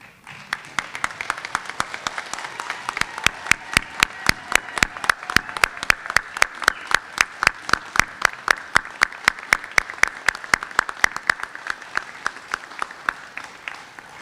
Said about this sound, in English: let them give you a round of applause for what you've accomplished